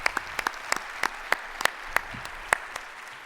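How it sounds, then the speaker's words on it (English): Sparse, scattered claps ring out from an audience at a credit union meeting, with individual hand claps spaced irregularly rather than forming a full ovation. "can you all join me in a round of applause to thank them for their service this year?"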